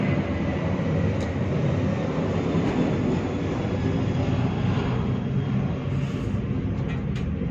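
A steady, loud broadband roar fills the whole stretch with no breaks, consistent with a jet passing low overhead near an airport, unbroken and close throughout.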